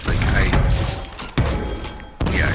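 Bowler weapon blasts in Fortnite: Save The World, with three sharp broadband impacts at roughly one-second intervals standing out from a dense, noisy game mix, while a person talks throughout.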